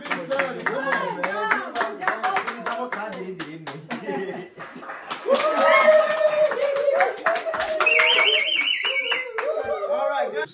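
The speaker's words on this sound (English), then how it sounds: "we gotta clap for you guys" Quick rhythmic hand clapping from a small group during a family game show, mixed with loud excited voices, cheering and talking throughout.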